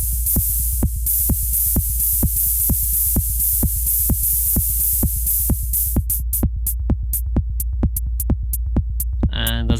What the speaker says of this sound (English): And on the track 8 we're going to place some hi-hats.